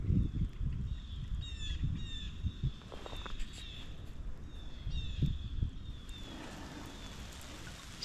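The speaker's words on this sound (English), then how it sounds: "Love the sounds of the birds." Birds chirp and call intermittently beside a river in falling snow, their short bright notes sounding over a steady wash of flowing water and light rustling, at moderate distance with no talking.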